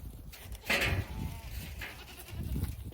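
A goat on a farm lets out a loud, close bleat, followed by softer rustling and a second fainter bleat near the end.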